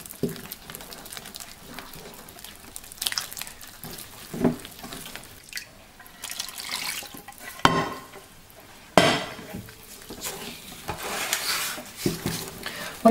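Brioche dough is worked in a bowl as a warm liquid mixture from a saucepan is folded in. Soft, irregular sticky stirring and slapping sounds come close by, with occasional louder clunks against the bowl.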